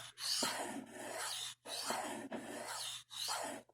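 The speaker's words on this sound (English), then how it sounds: "Obviously I wouldn't usually be sharpening like this" A blade edge is drawn across a sharpening surface in four rhythmic strokes, each a soft, close rasping rub separated by brief pauses, fairly quiet with no talking.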